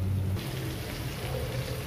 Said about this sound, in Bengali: তো এখন পানি দিয়ে দিচ্ছি